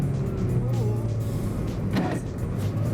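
A manual-transmission car driven by a learner hums with steady engine and road noise, with a brief shift in engine pitch around a gear change and faint voices in the cabin.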